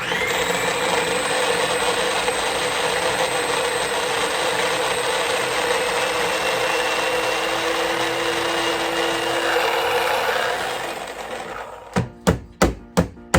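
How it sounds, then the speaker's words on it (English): A kitchen blender chops celery with a loud, steady, high-pitched whir for about eleven seconds, then cuts out into a series of sharp knocks as the jar is banged around. "So celery has gone now into the blender as well. I'm going to blend that up."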